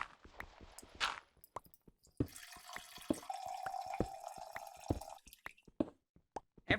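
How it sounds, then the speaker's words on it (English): Liquid drains from a separatory funnel into a beaker in a lab, heard as a cluster of close, irregular drips and plops broken by a short, steady trickle in the middle. "So, I drained it all out into a beaker."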